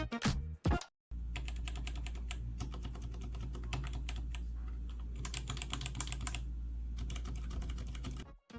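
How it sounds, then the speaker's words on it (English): Rapid typing on a Royal Kludge RK84 keyboard fitted with Boba U4 silent linear switches, a dense run of soft, muted keystrokes, close and quiet over a low steady hum, with no voices. "For the switches, I bought the Boba U4s. These are silent linears"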